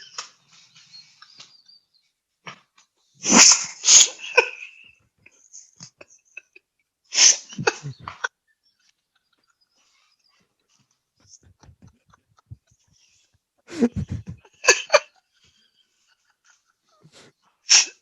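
A dog gives a series of short, sharp sneezes and snorts in quick clusters, close up, separated by quiet breathing and sniffing.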